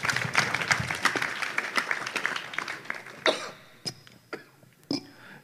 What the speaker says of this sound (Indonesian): Tepuk tangan untuk Mas Abrang.